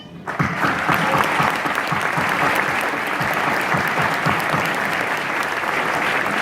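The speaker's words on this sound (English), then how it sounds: "Please take this moment to show appreciation to the educators who have supported you along the way with applause" A graduation audience applauds the educators at a high school ceremony, with dense, sustained clapping from a large crowd that starts abruptly and carries on at a steady level.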